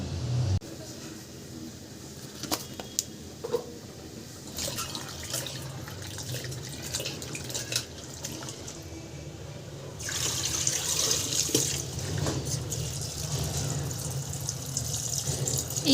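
Running tap water pours steadily over field beans being rinsed in a kitchen sink, with splashing and dribbling that grows louder partway through, while a person talks quietly in the background.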